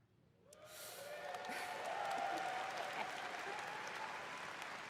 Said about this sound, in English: Pause. Wait for the applause.